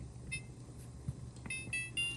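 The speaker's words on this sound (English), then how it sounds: "then you're gonna put on the timer" A kitchen stove timer being set for two hours, giving a few short, faint electronic beeps in quick succession against a quiet room background.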